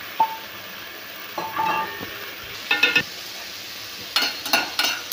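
Urad dal sautés in a pan as a low, steady sizzle with scattered clicks and scrapes of a spoon against the metal, moderately close and free of speech.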